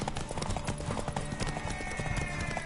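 Rapid, rhythmic clip-clop of horse hooves at a gallop in The Witcher III, close and prominent over a busy background of game noise.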